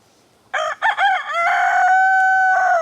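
A blue-egg-gene rooster crows loudly and close by, one full cock-a-doodle-doo with a couple of short opening bursts before a long sustained final note, alone with no talk.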